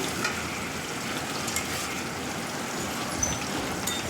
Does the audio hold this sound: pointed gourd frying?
yes